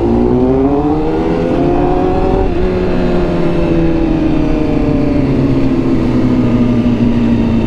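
A Honda Fireblade sports motorcycle engine revs loud and close, a steady throaty drone that climbs in pitch, dips briefly and then settles into a long sustained high rev.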